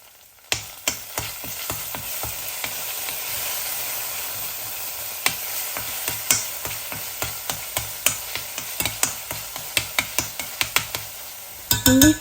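Eggplant rolls with black pepper, garlic powder and salt toasting in a hot pan for an Iraqi dish, a steady close sizzle punctuated by repeated sharp clicks and scrapes of stirring, with no talk.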